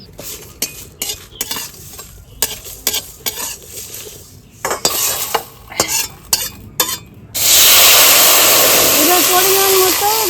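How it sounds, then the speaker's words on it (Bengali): Bay leaf, dried chili, coriander and panch phoron go into a wok with a series of sharp metal clinks and scrapes from the utensil, then a loud hot-oil sizzle takes over and holds steady, with a voice speaking briefly. "এইবার আমি ভেজে নিচ্ছি"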